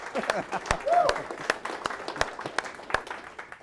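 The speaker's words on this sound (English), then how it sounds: "I think we should actually have one more round of applause just for our industry" A seminar audience gives a round of applause for their industry. The clapping is sparse and uneven, with distinct sharp claps standing out and a voice briefly heard among them.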